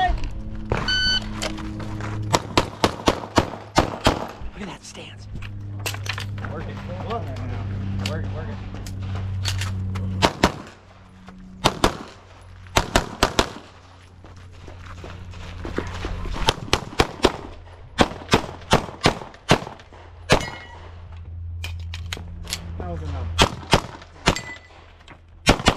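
Gunshots at a USPSA shooting match on a hot day, a long series of sharp loud cracks in quick clusters and separate strings, with people talking between and over the shots.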